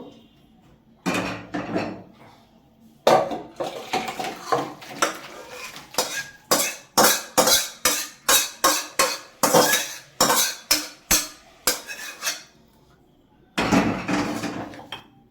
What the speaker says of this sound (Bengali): এবার গামলাতে ঢেলে দেবো